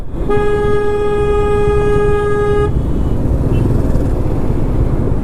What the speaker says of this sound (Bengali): হর্ন দেওয়ার কি দরকার, হর্ন দিচ্ছে, মানে দেখছে গাড়ির লাইন আছে